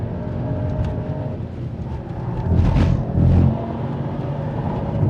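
Mercedes-AMG GT 63 Pro (2024) engine pulling hard at around 200 km/h, a loud continuous in-cabin rumble and drone that swells into two stronger surges of acceleration with rising roar, no talking.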